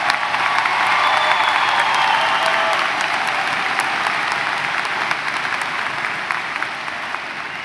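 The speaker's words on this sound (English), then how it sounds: "Give yourselves a round of applause" Loud sustained applause from a high school graduation audience, dense clapping with some cheering and whoops near the start, easing slightly toward the end.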